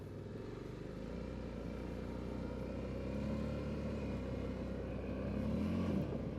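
A Honda Foreman 500 or Rincon 650 ATV engine running steadily on a fast-paced trail in two-wheel drive, a continuous low drone at moderate level with slight swells, no voices.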